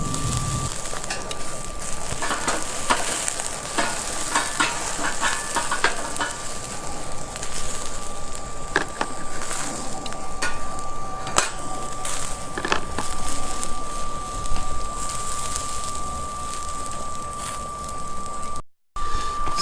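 Food cooking on a Biolite CampStove 2 grill, a steady close sizzle and crackle with a fan's constant hum underneath, scattered taps and clicks, and one brief dropout near the end.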